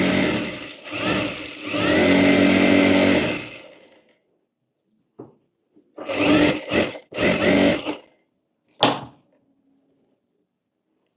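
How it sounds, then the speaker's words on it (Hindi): A sewing machine runs a line of stitching on a blouse lining, starting with a long steady whirring run and then stopping and starting in a few shorter bursts before a single brief buzz, close and loud with no talk. "अब यहाँ पर देखिए ऊपर भी एक एक धार सिलाई कर लेंगे।"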